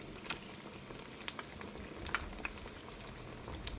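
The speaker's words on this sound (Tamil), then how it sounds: "கடைசி பேட்ச் பொரிச்சு எடுத்துக்கிட்டு இருக்கோம்." Egg bajji deep frying in hot oil: quiet, continuous bubbling with scattered small crackles and pops, faint and steady throughout.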